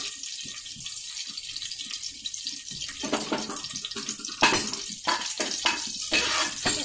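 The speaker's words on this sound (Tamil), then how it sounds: "எண்ணெயும் நெய்யும் சூடானதுக்கப்புறம் நம்ம எடுத்து வச்சிருக்கோம் இல்லையா சோம்பு, அது சேர்த்துக்கோங்க" Fennel seeds hit hot oil and ghee in a pan, setting off a bright, steady sizzle with crackling spurts that swell and fade. The sound is close up, with no one talking over it.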